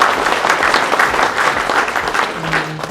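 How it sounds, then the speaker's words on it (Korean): A crowd at a Korean American community leaders' conference gives loud, sustained applause to welcome a community leader, with dense clapping that stays even throughout. "큰 박수로 환영해 주시고요"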